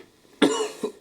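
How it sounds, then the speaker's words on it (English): A person coughing, one heavy cough followed by two shorter ones, loud and close against a quiet background. "apart from a tickly cough, excuse me,"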